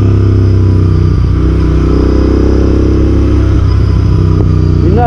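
A Royal Enfield Interceptor 650 motorcycle engine runs steadily and loud while being ridden, a deep continuous rumble with throttle changes near the end, no voices.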